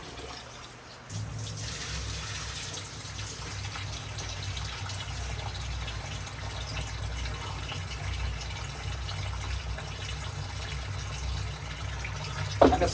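Water running steadily into a pot to cook rice over a wood fire, a close, continuous pouring and gushing that starts abruptly and goes on without a break, with no voices.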